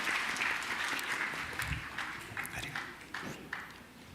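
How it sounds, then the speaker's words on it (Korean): A church congregation at a Sunday service claps together as a girl lights a candle, a close, fairly loud burst of applause with distinct individual claps that gradually thins out. "다 같이 우리 박수를 합시다."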